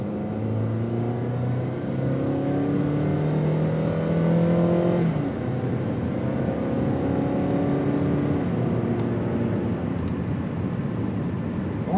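A car engine accelerates hard, its revving pitch climbing through the gears and dropping at each shift before rising again. It is loud, close and steady, with no talk over it.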